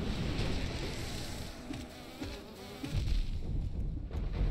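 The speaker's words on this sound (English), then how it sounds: "There's so many bees! Right in the same spot, there's like three big bees and three drill bees all in that same little corner." Bees and drill bees in the video game Hollow Knight buzz steadily and densely, a continuous droning swarm filling the whole stretch with gentle swells in loudness.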